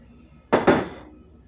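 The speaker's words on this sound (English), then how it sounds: "Alright, I'm going to knead it right here." Cinnamon roll dough is kneaded on the counter, giving two close, soft thumps in quick succession, alone in a quiet room.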